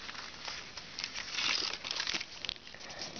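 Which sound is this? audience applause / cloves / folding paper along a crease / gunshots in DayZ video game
folding paper along a crease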